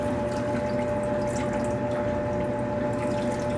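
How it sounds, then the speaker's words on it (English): Water drawn out of a home fish tank through a hose and drilled cap, a steady close trickling, gurgling flow with a constant pump-like hum underneath, no voices. "hopefully it'll suck enough water out of the fish tank"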